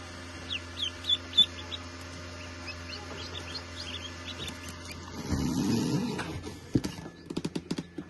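Faint, high peeping chirps from newly hatched ducklings and a guinea keet repeat through a quiet room, followed by some soft rustling and a burst of tapping clicks.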